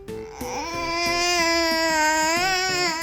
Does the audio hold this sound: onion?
no